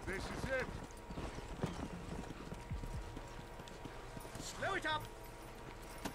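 A horse's hooves clip-clop steadily in the Western video game Red Dead Redemption. A couple of whinnies rise above the galloping rhythm.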